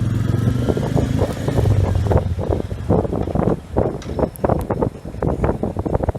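A Royal Enfield Meteor motorcycle engine hums at low speed on a wet monsoon road in Uttarakhand, under strong wind buffeting on the microphone, with a continuous rushing road noise throughout.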